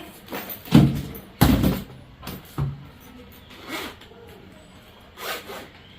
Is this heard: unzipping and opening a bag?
yes